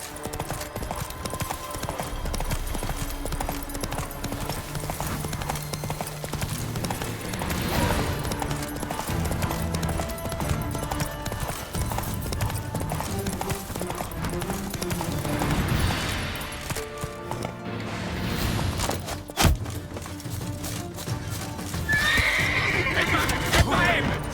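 Roach, the player's horse in The Witcher 3: Wild Hunt, gallops with steady clip-clop hoofbeats and lets out a loud whinny, all under a continuous game music and effects bed.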